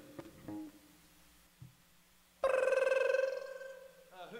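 A telephone rings in a call-in radio studio: after some short voiced sounds, a loud, pulsing ring bursts in for about a second and then fades.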